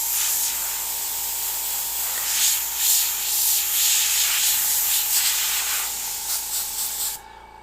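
An airbrush sprays paint through cheesecloth or a worn tack rag, giving a steady, close, loud hiss that wavers slightly and cuts off sharply just before the end.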